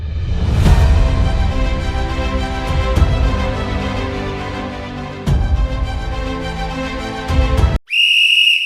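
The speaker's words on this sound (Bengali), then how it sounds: "রেফারির হুইসেল বাজিয়ে খেলা শুরু।" Sharp, sustained referee's whistle opening a football match between two local teams in Teknaf, sounding loudly over crowd ambience and ending with a piercing high blast.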